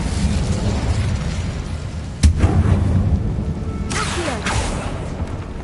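Incendio fire spell cast in Hogwarts Legacy, a sudden burst with a whooshing flare over a low rumbling game ambience, followed a moment later by a second softer crackling rush of flame.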